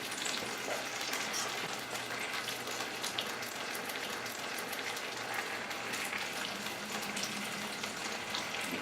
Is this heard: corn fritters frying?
yes